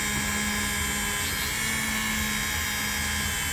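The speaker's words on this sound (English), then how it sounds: "get more of it off with the Dremel here" A Dremel rotary tool whines steadily as it buffs and cleans a Craftsman pocket knife blade after a mineral oil soak, a continuous high-pitched drone held at close range with no talk.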